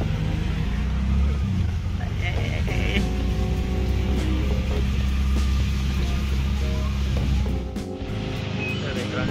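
Interior of a metered taxi on the move, with a steady low engine and road rumble throughout and people talking inside the car over it.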